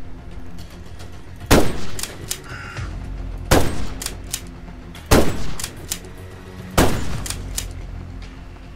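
Video game gunfire, four loud sharp shots spaced about two seconds apart, each ringing out briefly over a low steady background hum.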